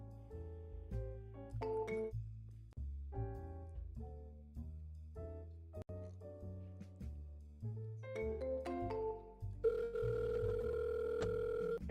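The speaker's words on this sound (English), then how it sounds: "At the tone, please record your message." A voicemail system plays a run of electronic melodic tones, then a steady, clear beep that holds to the end, signalling the start of recording.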